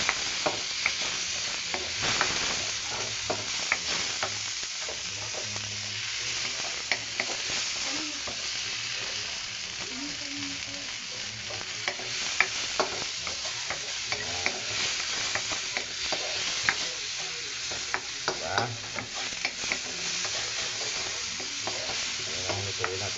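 Tomatoes are stirred and sizzle in a pot while salmon-head sinigang with miso is cooked. A steady frying hiss runs throughout, broken by frequent scraping and clinking utensil strokes at an uneven rhythm.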